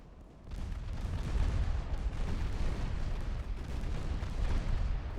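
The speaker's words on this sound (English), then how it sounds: "You can see the complete wall of fire just emerging from my battleships" Battleship guns firing in a naval warfare game set in 1954, a sustained rumbling barrage of overlapping booms and blasts, loud and continuous after a brief quieter start.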